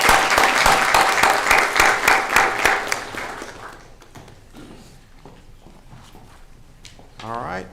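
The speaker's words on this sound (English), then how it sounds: "let's give Ms. Sanchez a big round of applause" Meeting audience applauding at a Texas Board of Criminal Justice session, dense steady clapping for about three and a half seconds that fades out, followed by quiet room murmur and a voice speaking near the end.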